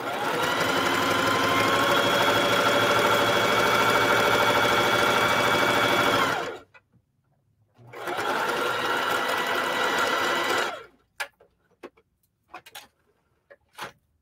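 Sewing machine stitching fabric for a shower curtain, two steady buzzing runs of about six and three seconds separated by a pause, followed by a few soft clicks and handling taps, close and fairly loud.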